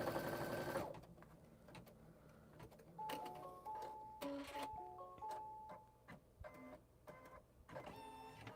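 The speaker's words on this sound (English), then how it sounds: "So I'm just gonna put my presser foot down and tell it to stitch." A home embroidery sewing machine stitches a quilt label in a 6x6 hoop, a steady mechanical whirring with rapid needle ticking and short motor whines, close and alone.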